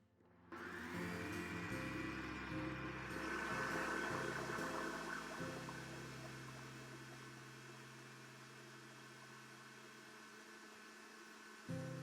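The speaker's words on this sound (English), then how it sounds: "we will introduce the oil as well into the mixer. So we mix until we have a smooth and even texture" An electric mixer beats a batter of eggs, sugar and oil for anise-flavoured biscotti, making a loud, continuous motor whir that starts abruptly, eases slightly in pitch and strength, then cuts off near the end.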